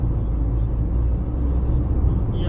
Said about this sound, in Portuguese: Muitos carros passando.